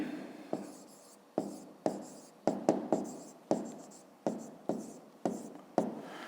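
A pen or pencil on paper writes out a math solution by hand, making repeated sharp strokes and taps in an uneven rhythm, close and fairly quiet, each stroke fading quickly into a soft scratch.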